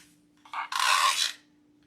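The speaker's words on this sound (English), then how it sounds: "What you're hearing is the wire on the bottom." Wire on the bottom of a fall mesh wreath scraping against the mesh, a short raspy rustle lasting under a second, close by with a faint steady hum behind it.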